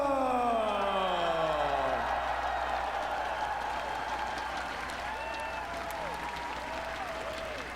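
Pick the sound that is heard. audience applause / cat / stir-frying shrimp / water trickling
audience applause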